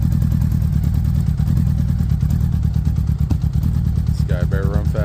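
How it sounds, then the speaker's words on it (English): A 1981 Honda Goldwing motorcycle engine cold-starting after six months and idling roughly, a loud low throbbing pulse with clattering and an occasional sharp pop, and someone speaking briefly near the end. "once it revs up and stops backfiring, it'll be good"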